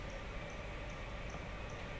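A clock ticks softly in a steady, evenly spaced rhythm, about two ticks per second, faint beneath a constant background hiss.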